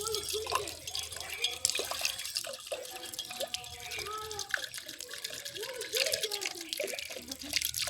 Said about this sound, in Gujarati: તો હું પાણી ભરું છું લોટીમાં.